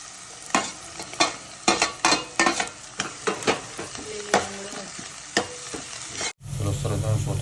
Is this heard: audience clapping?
no